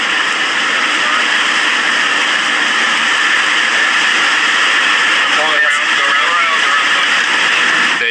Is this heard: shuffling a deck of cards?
no